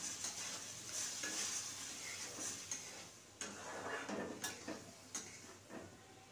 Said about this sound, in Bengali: আর এখানে আমি মশলাটা কষছি মাছের তরকারি